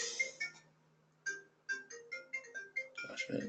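A phone ringtone plays a melodic run of short, bright electronic notes, repeating in a quick rhythm, close by and moderately loud during an indoor webinar, with a brief voice-like burst near the end.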